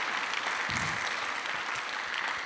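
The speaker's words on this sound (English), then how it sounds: "Applause, please." Audience applause at an award ceremony for a youth entrepreneurship competition, a steady wash of clapping from a crowd that holds evenly across the moment without talk.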